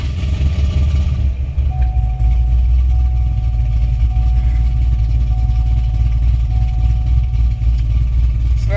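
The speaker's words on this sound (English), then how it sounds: "let's start the vehicle." A car engine cranks over and catches, then settles into a steady, loud, close idle with a faint constant whine on top and no voices.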